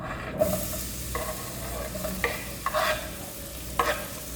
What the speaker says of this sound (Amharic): ሽንኩርቴን አበስለዋለሁ።